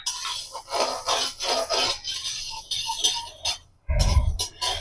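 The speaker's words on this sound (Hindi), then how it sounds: "अब मेथी को भी लेते हैं खूब बढ़िया से भून" Fenugreek seeds are dry roasted in a pan, producing repeated rasping scrapes and rattling as they are stirred, close and fairly loud, ending with a heavier rumbling clatter.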